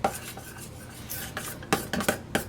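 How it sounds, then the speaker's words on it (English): Cream and chocolate being stirred into ganache in a bowl, a soft scraping and clinking of utensil against the sides in irregular strokes, close up with no talking. "you just want to keep on stirring until it becomes a chocolate sauce, basically"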